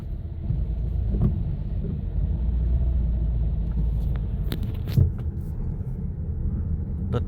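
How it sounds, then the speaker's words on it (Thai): Evening traffic jam in Vientiane, Laos: a continuous low rumble of idling and creeping car engines, loud and close, with a brief sharper engine or horn-like burst midway. "รถติดเนาะ"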